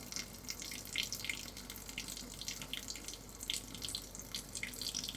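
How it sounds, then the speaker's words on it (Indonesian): Steady running tap water for hand washing, a continuous hiss of flowing water with light splashing and drips, fairly faint, with no talk. "Kemudian, bersihkan dengan menggunakan air mengalir."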